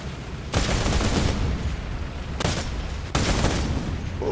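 A 20 mm turret-mounted cannon on a French AMX-30B2 Brenus tank fires in War Thunder. It sounds as three loud, rapid bursts of gunfire separated by short pauses, with no talking.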